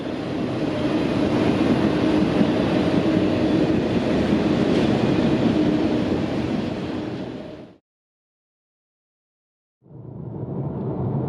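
A train rumbles past loudly and continuously at a railfanning spot between Palatka, Florida and Folkston, Georgia, then cuts to silence before the rumble returns.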